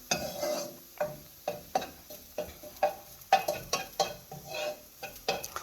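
Garlic stir-fries in a pan for Cambodian spicy quail, a soft sizzle broken by rhythmic scrapes and clinks of a utensil stirring against the pan roughly every half second, close and clear.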